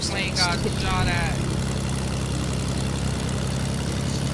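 A steady propeller-plane drone from Fortnite holds throughout at a constant level, with brief chirpy game sounds near the start.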